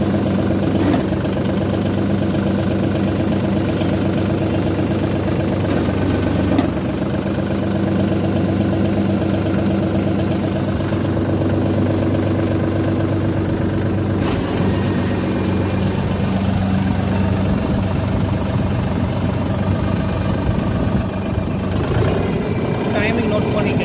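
A SANMAN 6000 tractor engine runs at a steady, loud idle throughout, its constant low rumble unbroken from start to finish.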